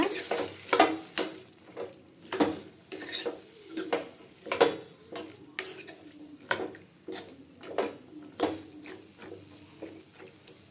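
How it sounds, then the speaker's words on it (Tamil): Carrot and bean poriyal being stirred in a pan: a spoon scrapes and clinks against the metal in a steady, repeated rhythm over a soft sizzle, close up, with no voices. "இப்போ கேரட் பீன்ஸ் சேர்த்துக்கலாம்"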